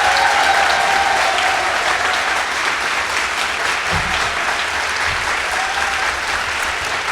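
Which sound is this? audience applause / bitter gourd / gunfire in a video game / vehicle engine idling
audience applause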